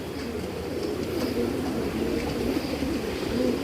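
Pigeons kept by a fancier in a collection of breeding pairs coo steadily in a low, continuous murmur that stays at an even level throughout, with no voices on top.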